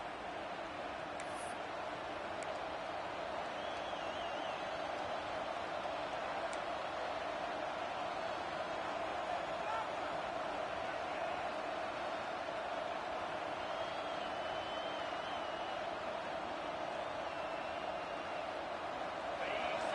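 A big stadium crowd at a Longhorns vs LSU college football game keeps up a steady, broad roar for the whole stretch. The noise stays loud and even, with no clear peaks.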